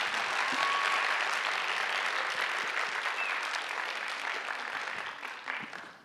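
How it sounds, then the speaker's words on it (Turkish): Audience applause from the crowd at a school public-speaking contest in Sarayönü, Halkapınar, a dense, steady clapping that holds for about six seconds and fades out at the end. "Kuvvetli alkışlarınızla grup sözcüsü Betül Yorulmaz."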